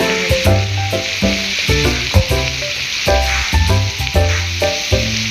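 Sliced onions frying in oil for a chicken curry, a loud close sizzle broken by rhythmic stirring and clattering of a spoon against the pan, no talking.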